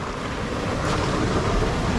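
A Surron electric dirt bike ploughs through a flooded street in Compton, Los Angeles, with a loud, continuous wash of splashing water and wind-like rushing that swells slightly partway through.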